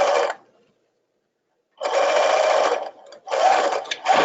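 Sewing machine stitching tutu fabric, running in two bursts after a short pause, with the second run stopping briefly partway through, close and steady.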